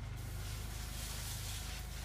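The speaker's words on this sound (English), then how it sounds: "We're going to go ahead and spray these brassicas here." Garden pressure sprayer misting neem onto brassicas outdoors, a steady continuous hiss with a low rumble beneath, close and even throughout with no talking.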